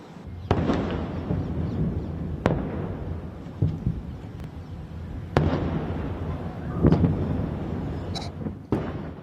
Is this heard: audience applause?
no